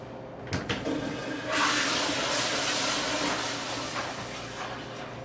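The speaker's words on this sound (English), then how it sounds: "I heard that toilet flush" A toilet flushes with a loud rushing gush of water that hisses and gurgles steadily before beginning to ease off, preceded by a couple of faint knocks.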